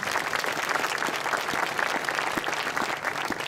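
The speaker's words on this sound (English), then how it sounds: "Little applause." A crowd applauding at a Memorial Day ceremony at Mt. Soledad National Veterans Memorial, a steady burst of many hands clapping at once, fairly close and loud, with no talking over it.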